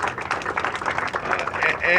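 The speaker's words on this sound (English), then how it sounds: "Let's give him another big round of applause" A crowd at the Skid Row Community Refresh Spot grand opening applauds council member Jose Huizar, a dense, steady wash of clapping and cheering voices that swells slightly toward the end.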